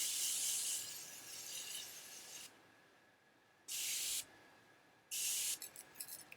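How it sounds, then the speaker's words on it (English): Three short, close hissing bursts of Morphe Continuous Prep and Set Mist sprayed onto a made-up face, the first long and the next two brief, separated by quiet pauses. "I'm going to bring it back to life using the Morphe Continuous Prep and Set Mist"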